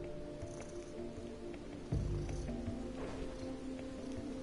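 A house cat purrs close to a microphone, a low rumbling purr that swells partway through over quiet room noise.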